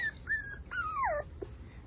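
Puppies, one of three lost underneath a couch outdoors, give high thin whimpering squeals, a few short rising-and-falling cries over about two seconds, close and moderately loud.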